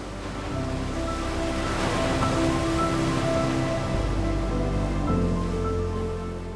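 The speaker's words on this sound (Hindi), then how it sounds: "Look at this waterfall." Nuranang (Jang) waterfall near Tawang roars as a steady, loud broadband rush of falling water, continuous and close throughout.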